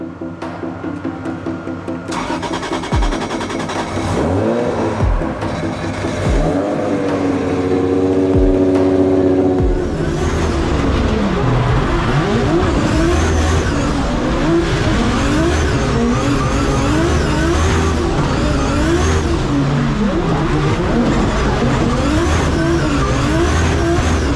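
Drift cars rev hard at a Drift Masters event in Ireland, with engines climbing and falling in repeated surges, bursts of tire squeal and skidding, and continuous loud, close motorsport noise throughout.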